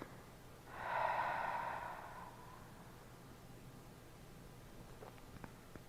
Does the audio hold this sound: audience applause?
no